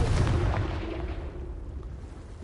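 A Confringo spell blast in the video game Hogwarts Legacy lands as a heavy booming explosion and then rumbles and fades over about two seconds.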